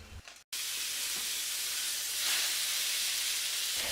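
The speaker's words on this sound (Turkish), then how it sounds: "yağsız kızarttım köftelerimi" Loud steady sizzling of meatballs frying without oil in a preheated pan, a continuous close hiss after a brief click at the start.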